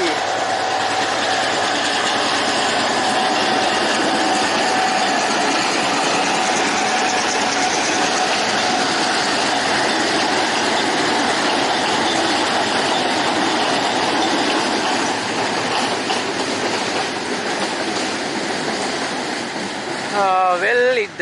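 An M6 locomotive pulls into a hill-country railway stretch in Sri Lanka, its loud, steady engine drone filling the scene, rising in rumble as it arrives, with a brief screech at the very end.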